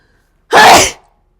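A single loud, close sneeze, a short explosive burst of breath and voice, standing alone in silence.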